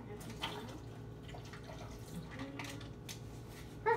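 Excess water is poured out of a container while making breakfast, giving a continuous low splashing and trickling that runs throughout at moderate level, with a faint voice in the background.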